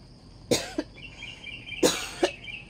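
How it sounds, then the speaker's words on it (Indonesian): Two separate coughs, each a sharp double burst, close and fairly loud against a quiet background with a faint chirping tone. "kok batuk"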